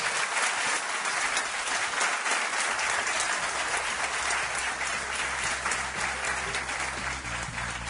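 Sustained audience applause in a Spanish village event hall, dense steady clapping at full volume lasting throughout, no voices over it.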